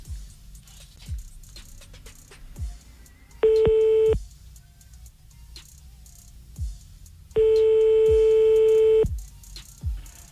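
A telephone call being redialed on a radio show: two steady ringback tones, one short and one longer, with faint rhythmic ticking in the background and no speech.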